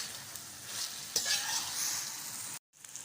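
Okra and green chillies stir-frying in a pan, a quiet steady sizzle with light scraping stirs and one sharp clink, then a brief silent gap near the end.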